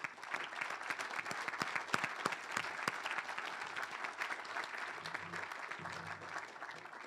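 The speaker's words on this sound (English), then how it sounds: "Let's give the parents applause." Audience at a school award ceremony applauding the parents, a dense steady clatter of many hands clapping from a roomful of people for several seconds, with a brief low voice near the end.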